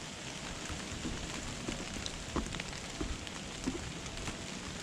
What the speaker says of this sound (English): I may be somewhat lost here as it starts to rain harder and harder.